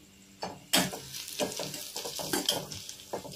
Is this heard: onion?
yes